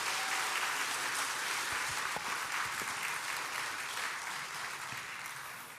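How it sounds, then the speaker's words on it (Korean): Audience in a church hall applauds for a pianist during an evangelism festival concert, steady dense clapping throughout that tapers slightly toward the end, with no talk over it. "저보다 더 뜨거운 박수"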